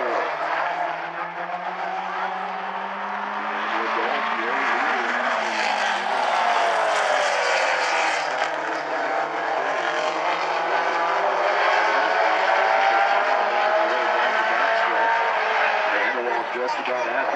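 Race cars roar past out of turn four and across the line during trophy dash racing at South Sound Speedway, a continuous loud engine drone with shifting pitch under an announcer's commentary.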